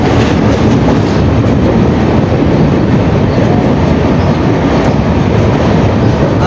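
Trains pass on railway tracks in India, a loud, steady, close rumble of wheels and carriages that fills the whole stretch without a break.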